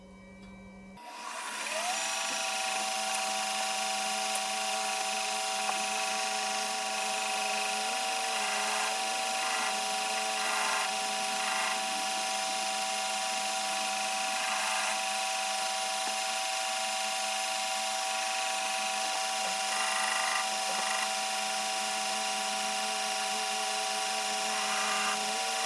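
Continuous abrasive rubbing of 120-grit sandpaper on a chef knife handle, a steady close hiss sustained for the whole stretch over a constant machine hum, with no talk.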